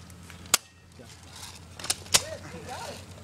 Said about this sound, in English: Can I shoot him?